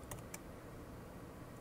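Quiet computer keyboard typing during Excel work in a spreadsheet: two or three faint, sharp key clicks near the start over soft background hiss, then steady quiet noise.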